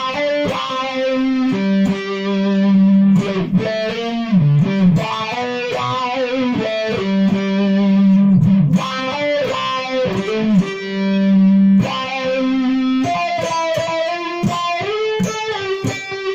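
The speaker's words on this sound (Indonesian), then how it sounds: "Pakai distorsi." An electric guitar played through a 4-in-1 effects pedal set to distortion rings out loud and thick, strummed chords and riffs with sustained notes and short breaks between phrases, without any talking.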